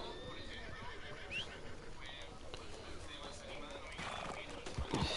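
A horse is called in the video game Red Dead Redemption 2, whinnying briefly as hooves clip-clop nearer, with someone talking over the game sounds throughout.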